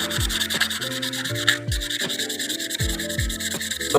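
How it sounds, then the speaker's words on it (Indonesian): Rhythmic rasping strokes of sandpaper scraping rust off metal scissors, steady and close, with music playing underneath. "Langkah pertama ya kita amplas dulu,"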